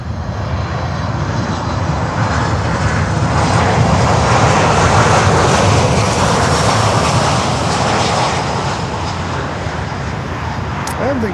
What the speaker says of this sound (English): An aircraft coming in, wow.